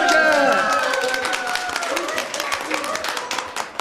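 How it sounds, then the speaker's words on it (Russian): Guests at a golden wedding anniversary party clap for a word game, a lively burst of hand claps that tapers off, with voices and laughter ringing over the opening. "И у нас на даче аплодисменты."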